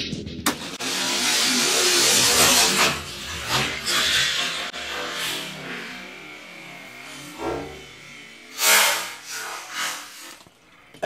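Hot Wheels toy cars, a BMW and a Camaro, racing down a plastic loop track, a fast whirring rush of small wheels on plastic with a few sharp clacks and rattles near the end.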